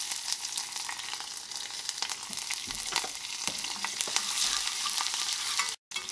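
Ginger, garlic and green chilies fry in hot oil with mustard seeds and fenugreek, a steady crackling sizzle with sharp popping bursts, cut briefly by a short silent gap near the end.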